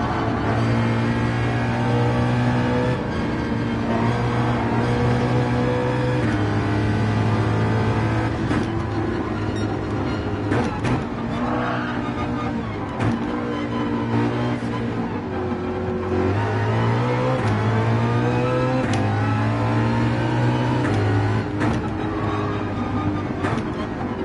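Ford race car engine in Gran Turismo 7 at Spa, loud and close, revving up through repeated gear shifts in a steady rising and dropping pattern with no talk.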